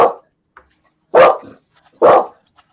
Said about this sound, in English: What are you barking at, Jax?